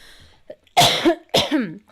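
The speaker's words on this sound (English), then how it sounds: "Keep coughing" Two harsh, loud coughs in quick succession, close up, with a brief pause between them.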